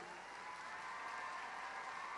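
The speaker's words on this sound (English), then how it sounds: "please give them another big round of applause." An audience at a youth arts festival applauds a junior strings group, a steady, even wash of many hands clapping, quiet and somewhat distant throughout.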